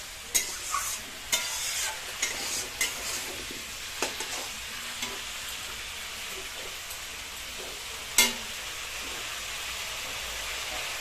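Tilapia with spices being stirred and fried in a pan, with a steady soft sizzle and scattered clinks and scrapes of a spoon against the pan, quiet and close with no speech.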